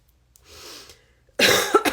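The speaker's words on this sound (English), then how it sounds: "I have a cough." A person gives a single sharp cough after a soft breathy exhale, close and abrupt.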